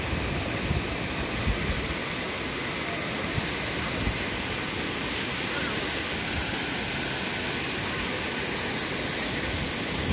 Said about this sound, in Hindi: चलो मैं आपको झरना थोड़ा नज़दीक से दिखाता हूँ